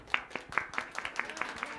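An audience at a village honoring ceremony claps on cue, about nine sharp, evenly spaced claps in a steady rhythm, fairly faint and light.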